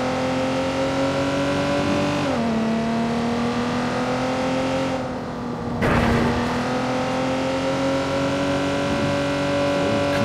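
A car engine in the Watch Dogs 2 video game holds a steady loud drone, its pitch dipping and rising as it shifts and revs again, with no talk over it.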